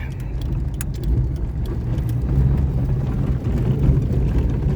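A car drives along toward a field, its engine and road rumble holding steady and low throughout, with a few light rattles inside the cabin.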